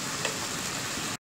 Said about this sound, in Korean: 맛있게 볶아줍니다.